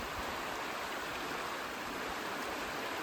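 Stream water flowing steadily beside a walking trail with some debris in the channel, a soft, even, continuous rush heard alone with no voices.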